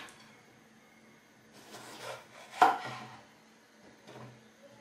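A knife slices a bell pepper into thin strips on a cutting board, a few quiet, close cuts with one sharper knock, in an otherwise hushed kitchen.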